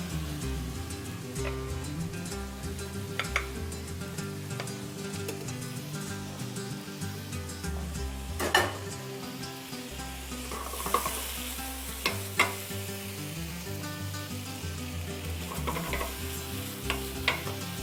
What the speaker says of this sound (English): Cooking our chicken for our famous chicken tacos.